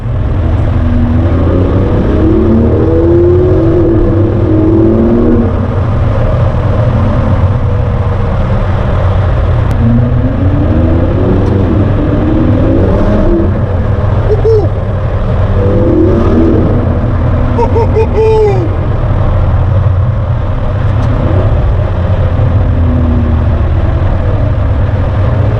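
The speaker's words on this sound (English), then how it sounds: "Let's hear what the DB11 sounds like in a confined space." Aston Martin DB11 engine roaring through a confined tunnel, loud and sustained with repeated rising revs and gear changes echoing off the walls, no talking.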